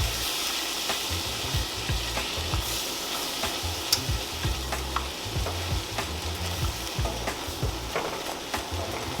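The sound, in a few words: stirring cream into spinach artichoke dip in a pan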